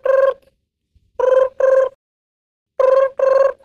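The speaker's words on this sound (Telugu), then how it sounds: "మేనేజర్ ఫోన్ చేశారు రాజుకి" A telephone bell rings in short bursts: one ring, then two quick pairs with pauses between, loud and close with no one talking.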